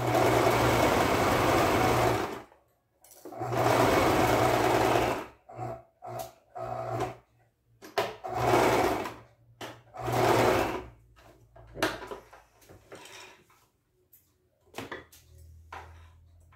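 A sewing machine stitches patchwork curtain fabric in repeated loud bursts of rapid whirring, separated by short pauses and quieter fragments of machine noise.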